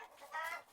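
A cartoon rooster gives a brief, soft clucking call, a short burst of chattering notes heard alone.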